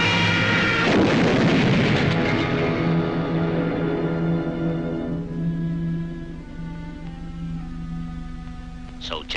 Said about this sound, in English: You may fire when ready, Von Gridley.